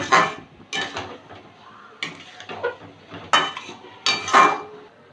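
A spoon scrapes and knocks against a pan while stirring egg curry masala with cream and potato, a series of loud, close metallic strokes at an uneven rhythm with brief pauses between them.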